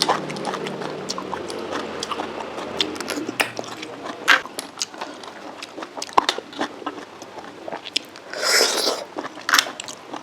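Someone chews and bites spicy cockle salad with glass noodles up close, wet crunchy mastication in an irregular rhythm, with no talk.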